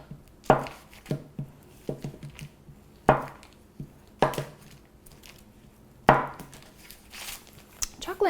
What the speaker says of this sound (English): we will chop this into small pieces and cut it into our flour